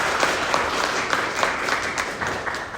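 A crowd at a youth convention applauds a keynote speaker and student panelists, steady dense clapping that holds at an even level throughout.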